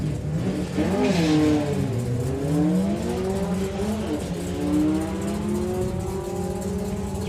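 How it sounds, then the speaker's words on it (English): A Mustang drag car at a drag racing meet revs hard at high RPM, its loud engine note climbing and dipping in sweeping pitch bends before settling into a steady high whine. "Lots of RPM going on in that Mustang."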